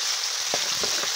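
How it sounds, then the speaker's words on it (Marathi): Garlic paste frying in a pan, a steady close hiss and sizzle with a few faint stirring touches, no voices. "लसूण टाकल्यावर आपण याला थोडं परतून घेऊ."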